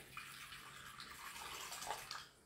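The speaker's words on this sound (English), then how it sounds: "I'm going to go back to my warm water and I'm going to put another 120 mils" Warm water pours steadily into a mixing bowl while sugar-free marshmallows are being made, a continuous close splashing stream with no talk.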